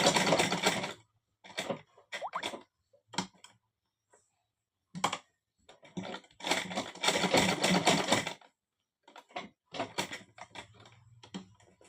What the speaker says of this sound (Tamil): கொஞ்சம் பின்னாடி தள்ளி ரிட்டன் இங்கிட்டு ஒரு தையல் போட்டுக்கோங்க